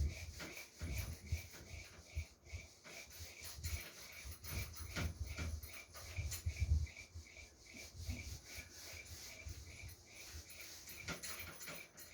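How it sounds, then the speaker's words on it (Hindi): A hand rubs written marks off a board in repeated soft, scrubbing strokes, quiet and close, with faint low thumps and no speech. "तो ये जो लिखा हुआ पार्ट है उसको मैं रब कर रहा हूं"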